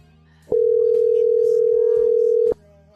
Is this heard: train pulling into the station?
no